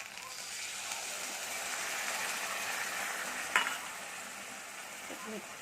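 Soft eggplant with creamed curd, sugar and salt stirred in a pan over a gas flame, a steady frying sizzle with a sharp clink of a utensil partway through and light scraping.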